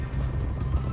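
A horse in Red Dead Redemption 2 gives off a low, rumbling stir of hooves and movement, close and continuous, without a clear whinny standing out.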